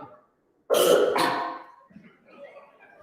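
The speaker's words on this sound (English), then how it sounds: "a horse wet cough" Two harsh, wet coughs in quick succession, loud and close, followed by a quieter rasping breath and faint murmuring.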